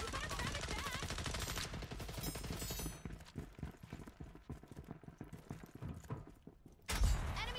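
Rapid gunfire in the shooter game Deadlock crackles in dense bursts against busy game sounds, with a heavier blast near the end.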